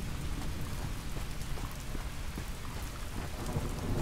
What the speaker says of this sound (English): The storm makes it so that I can't hear anyone.